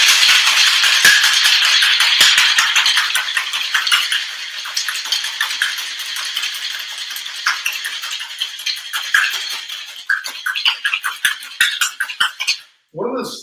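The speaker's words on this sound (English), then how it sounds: "when you're shaking a Boston shaker like this" Ice rattling hard inside a Boston shaker with a glass or second tin on top, a dense, loud clatter that thins into separate knocks toward the end before a brief stop and one last burst.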